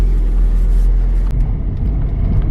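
Car traffic in Santa Monica rumbles close by in a loud, continuous low roar, with a brief dip partway through.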